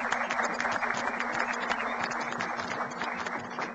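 An audience applauds the visiting Chinese ambassador Chang at a televised presidential event in Venezuela, a dense burst of clapping from many people over a steady background hum, fairly loud and without speech.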